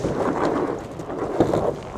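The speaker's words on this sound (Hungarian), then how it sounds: "fúj a szél, elég rendesen" Steady gusty wind buffeting the microphone outdoors during an inflatable paddleboard test, a continuous loud rumble with brief stronger gusts.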